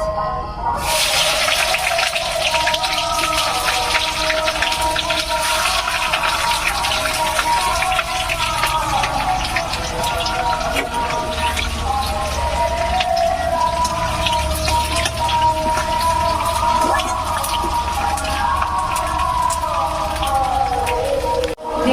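Onions hit hot oil in a loud, dense, continuous sizzle that roars steadily throughout, close and unbroken, while cooking pork with jackfruit.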